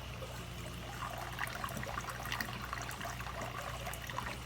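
Water pours and trickles steadily into a container to acclimate a newly unboxed stingray and arowana to aquarium conditions, a soft continuous splashing stream with no talk over it.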